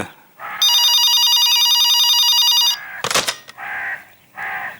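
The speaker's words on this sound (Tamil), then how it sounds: "ஏதோ எஸ்டிடி மாதிரி நீட்டா மணி அடிக்குது" A telephone rings with a long, unbroken electronic trill, loud and close, followed by shorter ring bursts after a brief clatter, as for a long-distance call in a television drama.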